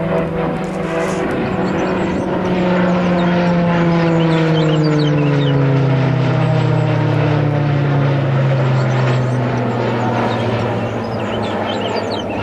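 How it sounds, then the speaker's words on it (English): A pair of RAF training aircraft pass overhead above UK countryside, a loud propeller-like drone whose pitch slides steadily downward as they fly by, filling the whole stretch with no talking. "Two Spitfires, Brazilian Spitfires we call them, practicing."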